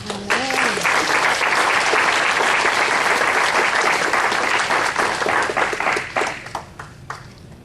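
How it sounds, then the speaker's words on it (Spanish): Loud, dense applause from a large audience, steady for several seconds and then thinning into scattered claps as it fades out. "¿Cuántos le damos un aplauso a Cristo?"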